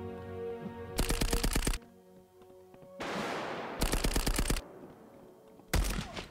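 Bursts of machine-gun fire in the video game Nine Witches: Family Disruption come as three loud, rapid rattling volleys of sharp repeated shots, broken up by quieter game sounds and a rushing noise in between.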